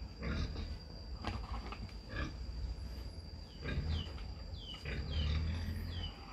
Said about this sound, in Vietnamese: Đây có nuôi, nhà có nuôi mấy con lợn này.